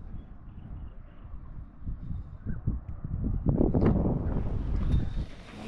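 Wind buffeting a kayak drifting on Galvė lake at Trakai, a rough low rumble of gusts against the microphone that swells and churns, with faint water sounds and no talk.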